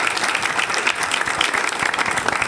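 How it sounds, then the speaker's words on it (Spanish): An audience at a project results presentation applauds: dense, even clapping from many hands, close and loud, with no talk over it. "Un aplauso para ellos."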